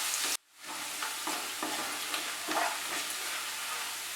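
Chopped ginger and garlic frying in a pan give a continuous hissing sizzle with a few soft spoon stirs, close and steady after a brief dropout near the start, with no voices.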